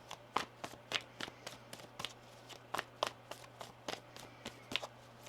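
Tarot cards shuffled by hand in a rapid, uneven run of crisp, close papery flicks and snaps over a low steady hum, with no voices.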